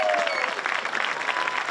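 Full audience applause at a high school graduation ceremony, a dense continuous clatter of many hands, loud and sustained with faint voices mixed in.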